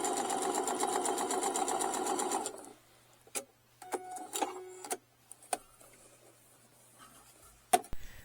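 A sewing machine stitches wallet credit card panels, a rapid, even mechanical rattle for about two and a half seconds before stopping, followed by scattered soft clicks and handling taps.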